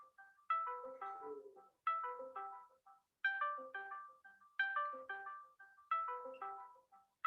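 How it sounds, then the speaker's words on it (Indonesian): A telephone ringtone plays a repeating electronic melody in regular bursts, about every one and a half seconds, fairly faint and distant in an otherwise quiet room with no talk. "Ada teleponnya bunyi ya?"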